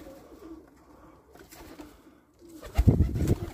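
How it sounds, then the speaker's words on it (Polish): Pigeons coo in soft, low, throaty calls at a loft, faint at first and then a louder burst of cooing close by near the end. "Tak gołębie przylatują."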